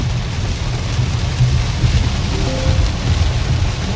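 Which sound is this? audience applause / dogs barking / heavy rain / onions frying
heavy rain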